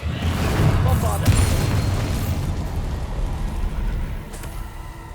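A Bombarda spell explodes in Hogwarts Legacy, a heavy booming blast with a dense rumbling roar that holds loud for several seconds before easing off, with debris-like crackle on top.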